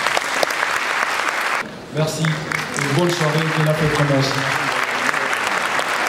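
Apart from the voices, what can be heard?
audience applause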